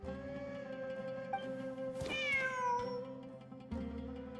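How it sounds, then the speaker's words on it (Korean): A cat in the Genshin Impact video game gives one clear, rising meow over soft, steady in-game music, with a few faint clicks around it. "진짜로 고양이가 있잖아."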